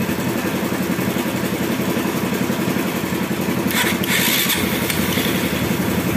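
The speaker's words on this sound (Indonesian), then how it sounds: "Kita coba nyalakan apakah nyala." A motorcycle engine converted from carburetor to fuel injection with a homemade setup runs with a loud, steady, close mechanical chatter. A brief rise in intensity comes partway through as it idles.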